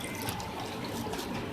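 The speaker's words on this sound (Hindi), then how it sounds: "इसके अंदर मैं पानी ऐड करूँगी" Water pours into a bowl of besan batter for palak pakora, a soft, close trickle and splash running continuously for a moment with no talk over it.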